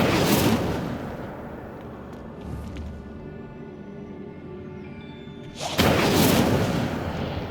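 An Incendio fire spell is cast in the video game Hogwarts Legacy: a loud, roaring burst opens, fades into a low rumbling lull, then a second forceful whoosh erupts near the end.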